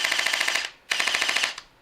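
An Anstoy AKM-47 airsoft electric gun fires on full auto in two rapid mechanical bursts with a short pause between them, close and loud with a buzzing, evenly spaced rattle.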